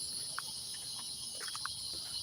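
Cicadas buzz in trees on a summer walk, a steady high shrill drone with a few faint chirps over it. It stays fairly quiet and constant, with no talking.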